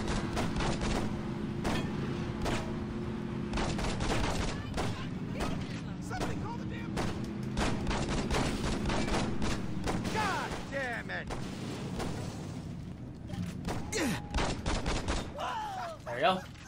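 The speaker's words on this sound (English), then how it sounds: "I can't hit anything with this pistol." Pistol gunfire in the Xbox 360 game Saints Row, with repeated sharp shots scattered through a dense, busy mix of game sounds and voices.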